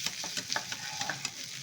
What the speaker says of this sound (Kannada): ಆ ಮಸಾಲೆ ನೋಡಿ ಎಷ್ಟು ಚೆನ್ನಾಗಿ ಫ್ರೈ ಆಗ್ತಾಯಿದೆ ಅಂತ.